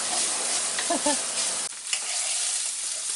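Sausage meat cooking down in grease in a skillet for sausage gravy, a continuous close sizzling hiss with a brief stir and clatter partway through, no voices.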